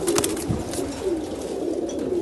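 Royal Teddy pigeons coo close by, soft throaty rolling calls repeating in short bursts, with a faint flutter early on.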